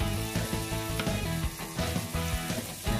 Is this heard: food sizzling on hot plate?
yes